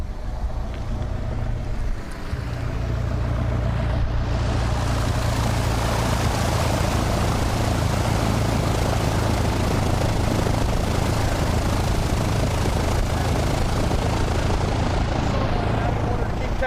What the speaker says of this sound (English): We got a plane coming in.